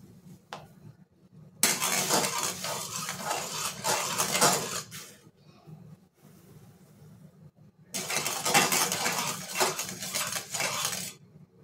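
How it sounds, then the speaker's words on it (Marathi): A spoon scrapes and stirs semolina into boiling water inside a metal pot in two long bursts, separated by a quiet pause, close and fairly loud. "आता ह्याच्यामध्ये आपण थोडा रवा टाकून मिक्स करून घेऊयात"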